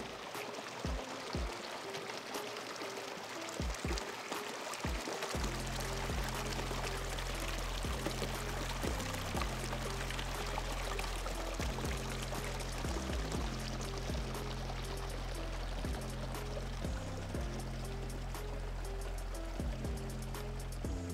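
Water flows in an Andean landscape around Hanan Qosqo, captured with hydrophones: a continuous pouring, gurgling stream with scattered clicks and knocks and a low hum that settles in after a few seconds.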